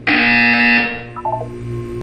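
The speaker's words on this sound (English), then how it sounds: "You will hear a buzzer." Harsh electronic buzzer in the Portal 2 video game, one loud blaring tone lasting about a second, trailing into fainter tones, with no voices.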